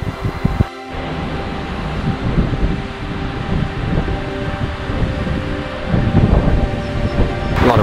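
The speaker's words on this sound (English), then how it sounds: "A lot of wind," Strong wind blows outdoors in a backyard, a loud rumbling buffet against the microphone that swells and drops in gusts and carries on throughout with no voices.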